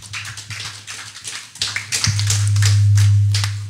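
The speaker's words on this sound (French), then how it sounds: "on acclame le Seigneur" A church congregation claps to acclaim the Lord, a run of sharp rhythmic claps joined midway by a deep sustained bass note from the music.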